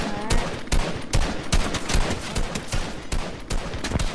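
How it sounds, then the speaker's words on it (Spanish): Gunfire in the video game Fortnite, aimed at the player: rapid, loud bursts of shots crack out one after another at a steady, uneven clip, with no talking over them. "Alguien me ha disparado."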